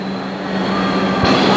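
A Bronx-bound R62A 1 local subway train rumbles steadily into the Cortlandt Street station, a low hum with rising noise and a brief thud near the end, no voices.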